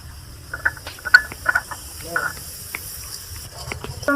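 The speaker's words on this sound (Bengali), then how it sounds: "তেলের মধ্যে গোটা জিরা দিয়েছি" Whole cumin seeds sizzling in hot oil in a pan, a soft steady hiss with faint crackles and small pops throughout.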